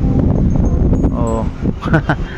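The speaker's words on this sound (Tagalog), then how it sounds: "Hindi makababa, sobrang lakas ng hangin." Loud wind buffets the microphone with a low, constant roar during a racing pigeon arrival, while someone talks over it briefly near the end.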